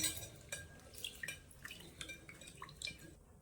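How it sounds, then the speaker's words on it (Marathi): Toor and moong dal being rinsed in water in a kitchen vessel: faint splashes, drips and light clinks come in quick irregular bursts, close and quiet. "ही डाळ आहे ना स्वच्छ दोन पाण्याने धुवून घ्यायची"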